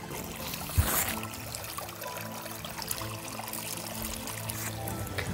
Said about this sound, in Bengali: আবার ঝিরি থেকে ভরে নিলাম